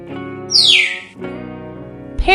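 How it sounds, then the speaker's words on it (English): A parrot gives a bright, sweeping squawk call that rises and falls, loud and close, with a shorter harsher call starting at the end. "Parrot."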